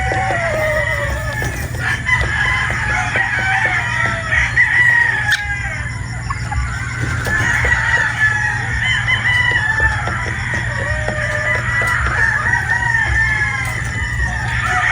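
Sweater and Boston crossbred pullets on a farm crow and cluck, a dense, close flock chorus over a steady low hum, with overlapping crows running throughout.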